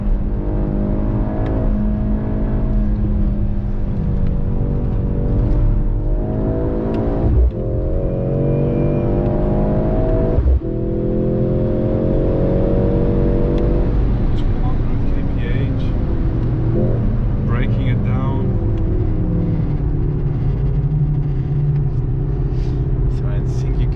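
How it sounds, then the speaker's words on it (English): Cabin-side engine note of a 2023 Mercedes C63 AMG four-cylinder accelerating hard through a curve, a loud continuous drone with repeated rising pitch sweeps and shift breaks, people talking over it. "It's just crazy the way he is accelerating in the curve."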